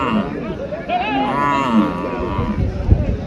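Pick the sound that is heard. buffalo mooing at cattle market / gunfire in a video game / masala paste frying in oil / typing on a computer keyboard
buffalo mooing at cattle market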